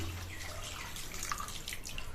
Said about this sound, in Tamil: பெரிய டம்ளரில் ஒரு டம்ளர் தண்ணி ஊற்றிக்கணும்